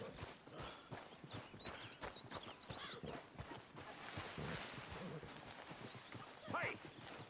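Horse hooves clip-clop in the Red Dead Redemption 2 video game, steady footfalls under ambient game sound and voices.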